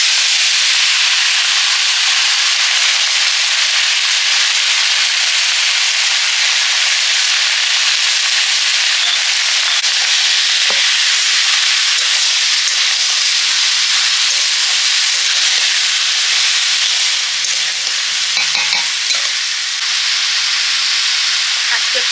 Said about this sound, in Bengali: এবারে চাল কুমড়ো দিয়ে দিচ্ছি।